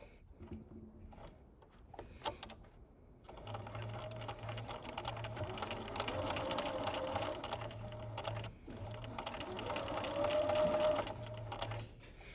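Sewing machine stitching self fabric for a back neck stay, a close, rapid mechanical whir in long steady runs with brief stops between bursts.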